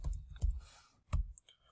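Quick keystrokes on a computer keyboard while entering an item into an inventory spreadsheet, a few close, sharp clicks in short irregular bursts with pauses between.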